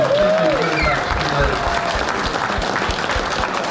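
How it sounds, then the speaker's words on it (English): Audience applause breaks out at a motorcycle event auction for Italian Moto Guzzi riders, a loud sustained wash of clapping from a crowd with voices mixed in throughout. "give them a big round of applause"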